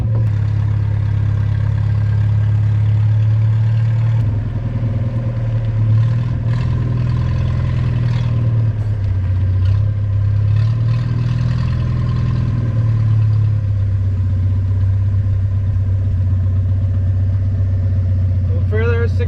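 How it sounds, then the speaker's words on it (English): A forklift engine runs steadily and loudly nearby while lifting a boat motor into a wooden boat under restoration, a constant mid-pitched drone that rises slightly in effort partway through, with voices speaking over it. "Forklift's gonna forklift it in"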